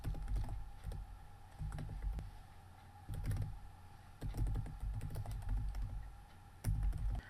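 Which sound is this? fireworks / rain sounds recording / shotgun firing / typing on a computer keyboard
typing on a computer keyboard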